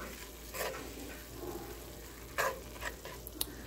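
Garlic frying in a pan for a lasagna sauce gives a soft, continuous sizzle with a few brief stirring scrapes and clicks, close by and fairly faint.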